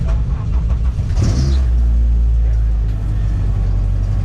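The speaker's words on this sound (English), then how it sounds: "Yep, turn the car on." A car engine turns over and settles into a loud, steady, close rumble during a night endurance race at Thunderhill.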